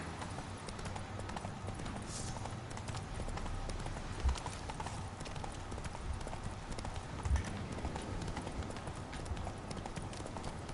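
A horse gallops in The Witcher III with a steady, fast clip-clop of hooves on the ground, loud and continuous, with a couple of sharper thuds and a faint high whinny.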